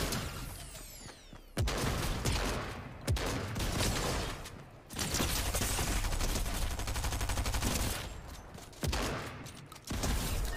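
Rapid bursts of gunfire from the video game Fortnite, repeated automatic volleys and sharp single shots, fill the scene loudly with short gaps between.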